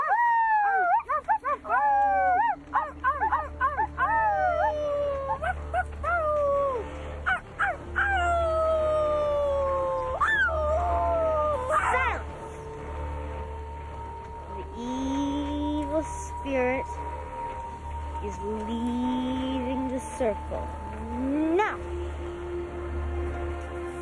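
A person imitating a dog, first barking, then drawing out long wavering howls as if baying at the moon, loud and close over a low steady background hum, with a few short spoken interjections near the end.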